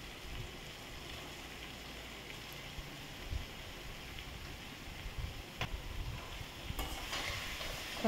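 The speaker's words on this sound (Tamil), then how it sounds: "பாருங்கள், இதே லைட்டாக வதக்கிடலாம்." Sliced mushrooms stirred into softened onion and tomato in a pan, giving a steady, moderate sizzle with soft scraping stirs and a few louder clatters near the end, no talk.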